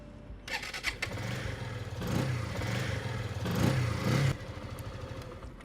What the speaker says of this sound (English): start the engine and run it on idle speed for 3 minutes